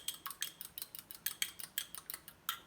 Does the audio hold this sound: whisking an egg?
yes